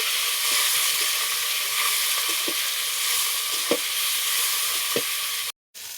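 Chopped onion and tomato sizzle in hot oil in a pan, a dense continuous hiss close up with soft periodic stirring scrapes, ending in a brief cut to silence just before the end; no one speaks.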